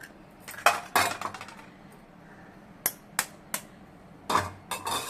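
Eggs go into a pot of okra egg curry with a few sharp clinks and knocks against the pot, spaced irregularly with quiet gaps between them.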